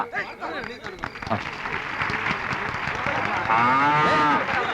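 Cows moo at a livestock handover ceremony where a bank distributes cattle to recipients, with crowd noise, applause and speech throughout; a long drawn moo rises clearly near the end.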